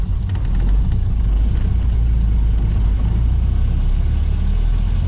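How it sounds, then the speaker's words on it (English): Ford Model A with a Burtz block flathead V8 and Mitchell overdrive, straining to accelerate in overdriven first gear on a brick road with the clutch slipping, a steady loud low engine drone throughout, with no talk. "that was me trying to accelerate in the overdriven first gear"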